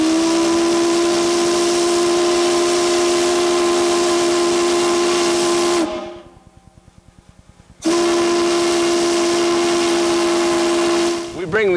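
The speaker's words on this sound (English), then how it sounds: "We create the steam with the boiler behind me here." Live steam from a diesel-fired boiler at a historic mint distillery in Crosby shrieks in a loud, steady whistling hiss with a strong tonal whine, cuts out for about two seconds to a low rumble, then roars back and sputters near the end.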